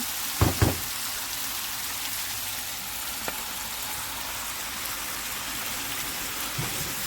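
Shrimps hitting a hot frying pan for Guyanese-style shrimp and sausage fried rice: a couple of quick thumps at the start, then a steady soft hiss of oil sizzling throughout.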